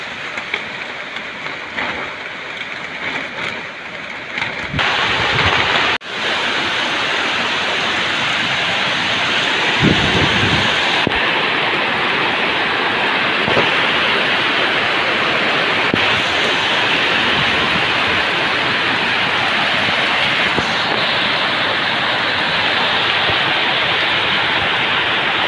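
Heavy rain pours down steadily near a tarpaulin shelter, a dense, loud, unbroken hiss and patter that swells in intensity after the first few seconds and holds there.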